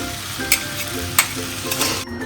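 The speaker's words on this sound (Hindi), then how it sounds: "इसे 2 मिनट हाई फ्लेम पे कुक होने देंगे।" Wheat noodles cook over a high flame in a street-style home kitchen, giving a continuous loud sizzle with a couple of sharp utensil knocks and light stirring scrapes.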